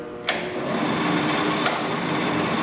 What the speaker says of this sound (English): To turn the planer on, we want to turn on the top button here, turns on the blades.